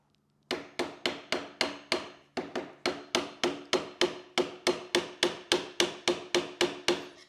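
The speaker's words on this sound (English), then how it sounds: "I'm just putting the screwdriver right on the edge, not anywhere near the thread, and just hitting it out slowly." A hammer strikes a screwdriver set against the edge of a part on an R1 electric dirt bike to drive it out. Around twenty sharp metallic taps follow at a steady rhythm, close and clear, with no talking.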